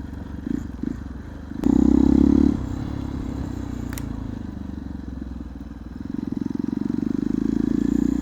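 Hero XPulse motorcycle fitted with an Akrapovic exhaust, riding with a steady engine drone that swells into a louder burst and later grows again, with some clatter from the road.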